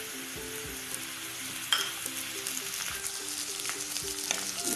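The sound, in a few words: frying chopped mushrooms with onion in a pan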